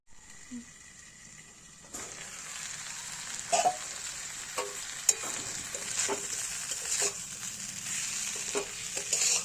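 A paste of black mustard, garlic and green chili fries in a pan for a cauliflower-stalk chorchori. A steady hiss of sizzling rises after a quiet start, with occasional sharp utensil scrapes and clicks on top.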